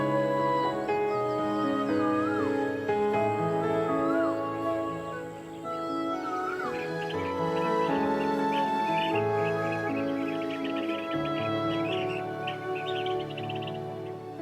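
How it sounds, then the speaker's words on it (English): Summering birds in Kinmen give mating calls: repeated chirps and whistled notes rising over a dense, sustained musical backdrop that runs throughout, fairly loud and continuous. "Mating calls of the summering birds can be heard everywhere."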